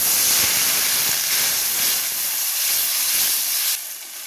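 Water is poured into a hot pan of frying spice paste with chili powder, where the oil has separated, for a bata fish curry. A loud, steady steam hiss roars close up and drops off sharply near the end.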